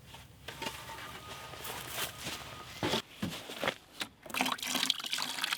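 Vinegar and water being poured into a mix with borax for treating salvaged wood: a faint, steady liquid trickle and splash with a few louder knocks and handling clunks, no talking.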